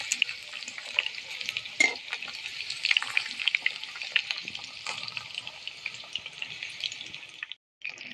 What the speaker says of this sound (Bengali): এবার এই পিঠটা ভেজে নেবো বন্ধুরা।